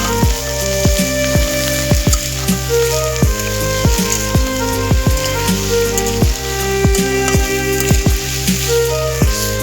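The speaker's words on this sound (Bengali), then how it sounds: "এবারে আমি কুচিয়ে রাখা আলুগুলো দিয়ে দেবো।" Chopped potatoes tipped into a pan of browned frying onions for a spicy papor dish, giving a steady, close sizzle with repeated soft scraping and stirring knocks throughout.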